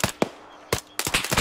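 Automatic weapon fire in the military shooter Arma 3, sharp loud bursts arriving in separated groups, a couple of single cracks followed by a rapid rattling volley near the end.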